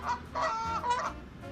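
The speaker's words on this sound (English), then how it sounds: "I just felt like doing the goose sound" Three quick, loud goose honks from a sound effect in a row, nasal and close, with a faint background hum.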